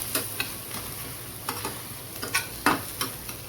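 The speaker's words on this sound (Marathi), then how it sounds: "आणि शिमला मिरची घालून थोडं फ्राय करू." Capsicum and cabbage Manchurian sizzles and fries in a pan under a steady hiss, with a spoon scraping and clicking against the pan as it is stirred in irregular strokes.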